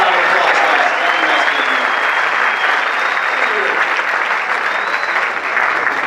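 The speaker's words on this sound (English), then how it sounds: "Let's go get the round of applause, guys" Sustained crowd applause and cheering fill a Team Trump campaign event in Farmington, loud and steady throughout with a few whoops rising from the crowd.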